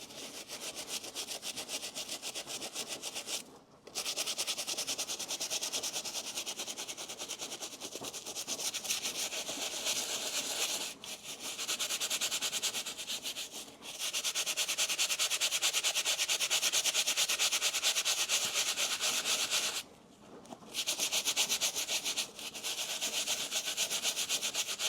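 Brush scrubbing the fabric tongue of a Nike Panda Dunk sneaker, close rapid rasping strokes in long steady bursts separated by brief pauses, no speech.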